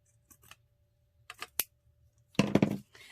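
Scissors cutting off the end of a craft band during a wooden heart craft project: a few faint clicks and snips, then a sharp close cut and a brief crunchy burst of blade noise, with no talking.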